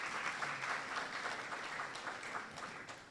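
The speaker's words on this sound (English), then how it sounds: "Another round of applause for him." An audience at a youth policy dialogue applauds a panelist, a continuous, fairly distant roar of many hands clapping together without speech.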